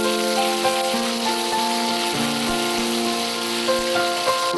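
Ginger and green chili paste sizzles and fries in a pan, a steady close crackling hiss that runs without pause, with a faint tonal hum underneath.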